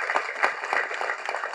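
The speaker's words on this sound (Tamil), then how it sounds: "கண்டிப்பாக அதற்கு ஒரு பெரிய கைத்தட்டல் ஜெய் பேபிக்கு." Audience applause at a Tamil film audio launch, dense continuous clapping from a crowd, fairly loud and steady throughout its short length.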